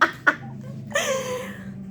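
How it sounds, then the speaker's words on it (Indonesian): Two short, sharp coughs from a young girl in close succession, followed by a brief voiced laugh-like exhalation. "Maaf, sorry, lagi batuk."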